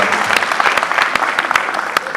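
Audience applause from students and officials at a political rally in Mbour, Senegal: dense, steady clapping from a crowd with sharper individual claps standing out, loud and sustained throughout.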